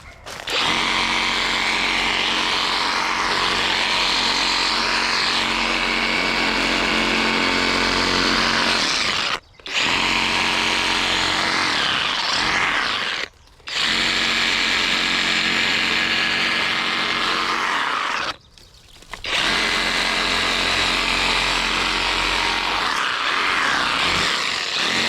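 A Skil Sawzall reciprocating saw cuts small yard branches in long, loud, buzzing runs, stopping briefly three times before starting again.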